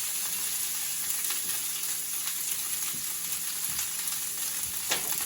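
Onion and carrot stir-frying in a smoking-hot pan, a dense, continuous loud sizzle with occasional scraping and clinks of stirring, close and without voices.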